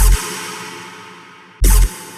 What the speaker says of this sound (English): Then there's a one shot which sounds like this.